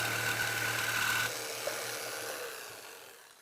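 A handheld jigsaw makes a beveled rip cut in wood, buzzing loudly and steadily up close before it stops. The motor then winds down and fades away.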